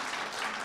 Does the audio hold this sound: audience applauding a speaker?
yes